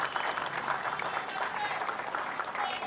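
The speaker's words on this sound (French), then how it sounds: "on va vous acclamer" Applause for a minister at a ceremony launching construction of an infrastructure centre: steady, dense clapping from a crowd, even and sustained throughout the short stretch, with a voice faintly underneath.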